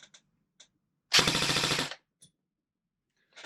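A Krytac CRB airsoft rifle fires one rapid full-auto burst of under a second, a loud close rattle of evenly spaced shots, with faint handling clicks before and after.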